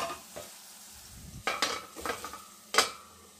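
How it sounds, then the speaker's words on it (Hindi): Tomatoes and onions cook with salt in a pan, giving a faint sizzle under a few distinct stirring scrapes and clinks of a utensil against the pan. "थोड़ा सा नमक मिला के इसे पका लेंगे टमाटर और प्याज को।"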